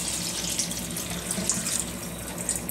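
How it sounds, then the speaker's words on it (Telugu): Water is poured into a cooking pan while a curry is being made, making a steady, moderately quiet rush and splash that runs unbroken for a few seconds, with no voices. "ఈ నీళ్ళు వేసుకున్నాం."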